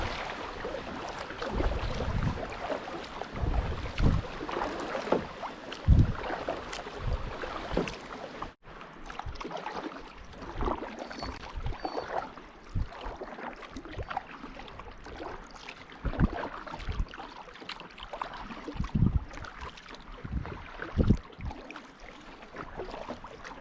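A rowboat is rowed with steady, rhythmic oar strokes, splashing and knocking softly on water for over twenty seconds, with faint wind in the background.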